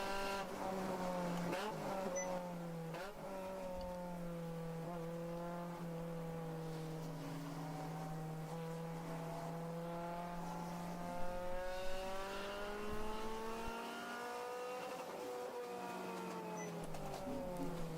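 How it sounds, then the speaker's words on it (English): A race car in an endurance race at the Pittsburgh Grand Prix, its engine revving repeatedly up to the rev limiter, rising and falling whines layered in waves at a moderate distance over a steady broadcast background. "Right up to that rev limiter every time as he comes down into the gulch."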